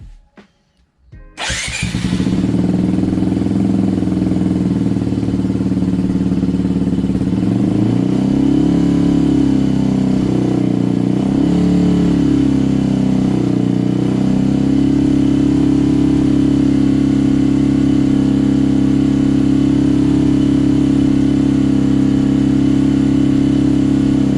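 Modified engine started and then held at a steady 4,000 RPM: a short cranking catch, then a loud, constant droning hum with slight wavering in pitch, close and alone.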